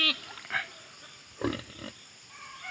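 A pig feeds on raw galyang, with grunts and short snorts close by in a few separate bursts, with faint background noise between them.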